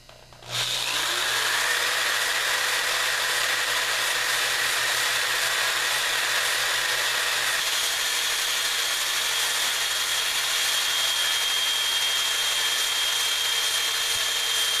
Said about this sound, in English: see if we can drill this pilot hole all the way